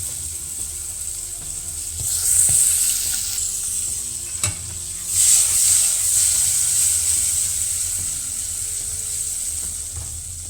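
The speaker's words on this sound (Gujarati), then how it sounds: "તેની સાથે આપણે આ એક બટેકું લીધું છે તે પણ નાખી દેવાનું છે." A potato is added to stuffed brinjal curry frying in hot oil with mustard seeds and coriander: a steady, close sizzle that swells into louder hissing bursts as the pieces go in, with faint stirring clinks.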